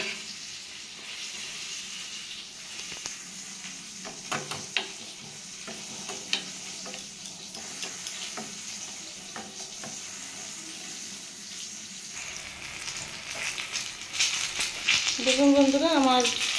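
Eggplant slices fry in hot oil in a home kitchen pan, giving a steady sizzle with occasional stirring scrapes and clinks. Brief voiced sounds rise near the end.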